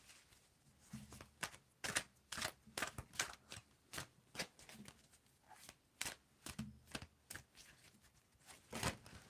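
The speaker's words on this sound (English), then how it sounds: "tell me when to stop shuffling" A deck of tarot cards being shuffled by hand, with repeated crisp riffles and snaps coming in quick, irregular bursts, close and quiet.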